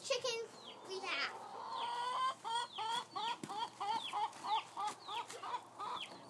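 Backyard chickens, including an Araucana, clucking in a quick series of short, rising calls close by, fairly quiet, with brief children's voices in between.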